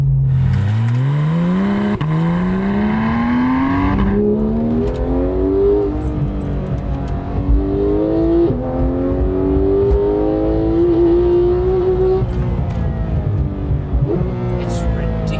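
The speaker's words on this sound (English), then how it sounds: "Just that engine revs up so quickly." A Porsche 911 GT3 (991.2) engine revs hard toward 9000 RPM and climbs through gears in rising whines, loud and close, with a voice talking over it.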